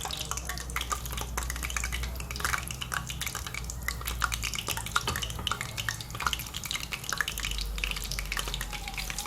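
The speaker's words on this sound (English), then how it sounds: "Now our oil should be hot, so take it one and put into the oil." Chicken pieces for sweet and sour chicken fry in hot oil, giving a close, continuous crackle and spatter of fine pops over a low steady hum.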